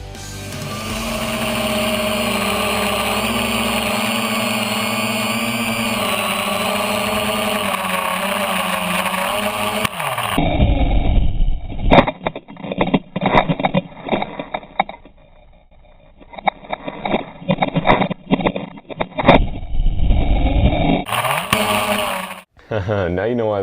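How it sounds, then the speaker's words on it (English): A homemade tricopter flies with a steady, droning whir of its rotors for about ten seconds, then a propeller comes off mid-flight and the sound breaks into choppy, irregular bursts and thumps as it tumbles and crashes. "the propeller on the left came off mid-flight and did a couple somersaults and then landed on all its legs"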